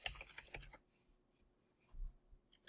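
A few quiet keystrokes on a computer keyboard, a short cluster of clicks followed by near silence and then a couple more soft taps.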